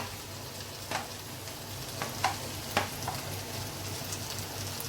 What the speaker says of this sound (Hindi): ये मैं ब्रोकली डाल रही हूँ, ये येलो कैप्सिकम डाल रही हूँ